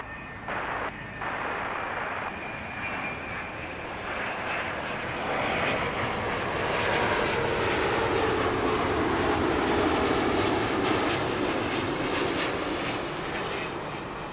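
Airliner on approach at Heathrow Airport, a broad engine roar that swells steadily over several seconds and holds loud as the jet passes near, with no talk over it.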